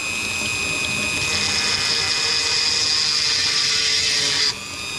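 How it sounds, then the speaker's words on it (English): A drill with a water-cooled bit cuts into small pieces of jade, giving a steady, loud, high-pitched whine over a wet hiss that runs almost the whole time and cuts off abruptly near the end. "I'm gonna drill some of these jade pieces"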